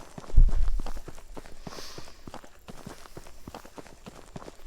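Footsteps from an Unreal Engine 4 footstep sound asset: a steady series of soft, distinct steps with basic distance attenuation, one heavier thud at the start, then regular moderate-level treads.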